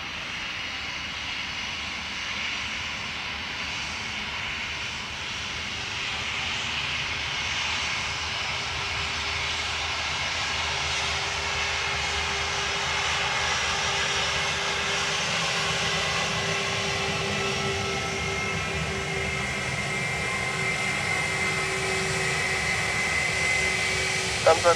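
Airliner jet engines roar steadily on a runway at Dublin Airport, a continuous broad rumble that builds slightly over time, with air traffic control radio voices heard faintly underneath.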